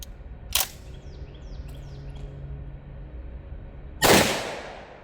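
Two sharp, loud gunshots from an Egyptian Hakim 8x57mm semi-automatic battle rifle that is badly over-gassed, the second blast ringing out longer, separated by a few seconds of quiet outdoor background.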